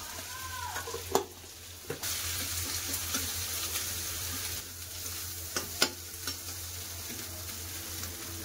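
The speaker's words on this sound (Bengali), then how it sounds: "পেঁয়াজের সাথে ডিমটাকে খুব সুন্দর করে ভালো করে ভাজা করে নেব।" Fish roe frying in a pan with browned onion, salt and a little turmeric, giving a steady close sizzle with a few sharp clicks and scrapes of stirring and no talk.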